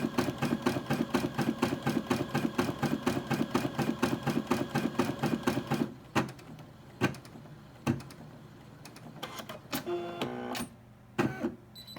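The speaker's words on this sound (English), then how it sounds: "And that was the sound of the machine cutting the thread." A Brother SE600 embroidery machine runs with a steady, rapid rhythmic whir for about six seconds. It then stops and gives a series of sharp clicks and short mechanical whirs as it cuts the thread.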